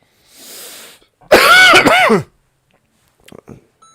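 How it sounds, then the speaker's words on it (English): A person coughs hard several times in a tight burst, close and loud, after a softer breathy sound and followed by a few quiet clicks. "Excuse my coughing."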